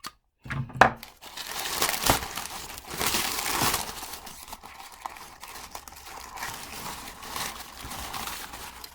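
Plastic packaging from an orchid order is cut and torn open close by, giving a run of crinkling, crackling rustles with a few sharper snips and tears, and no voices.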